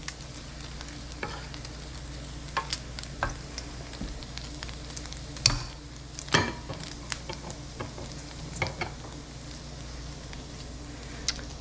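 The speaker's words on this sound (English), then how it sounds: "keep mixing and tending to that bacon especially once you put the brown sugar in" Bacon sizzles and fries in a pan with brown sugar, with a spatula stirring and scraping at irregular intervals over a steady crackle, close and fairly quiet with no talk.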